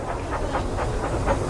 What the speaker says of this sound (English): Then Toby puffed in with Henrietta to pick up some passengers